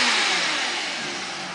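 A Lamborghini Murcielago V12 revs hard and close, a loud, sustained roar that holds steady and slowly eases off across the clip, with no one speaking.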